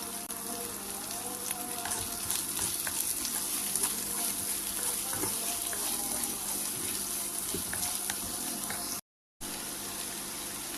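Onions and garlic frying with salt in a pan, giving a steady, loud, continuous sizzle and crackle that runs unbroken apart from a brief dropout near the end.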